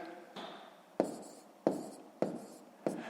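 A pen writes numbers on paper in short, scratchy strokes, about five distinct bursts in a close, quiet room.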